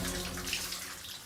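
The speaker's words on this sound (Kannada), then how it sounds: "ಇಲ್ಲಿ ಬಂದ್ರೆ ಶವರ್ ಆನ್ ಆಗಿದೆ" A bathroom shower running with no one under it, giving a steady, moderately quiet hiss of falling water that carries through without a break.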